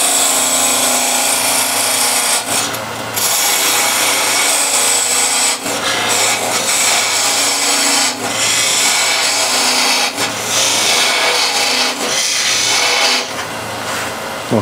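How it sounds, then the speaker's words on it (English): Parting tool cutting into wood on a lathe while turning a coffee or tea container, a steady rough scraping hum broken by several short pauses, close and loud. "I use a parting tool and let's go around 10 mil, 12 mil away from the inside."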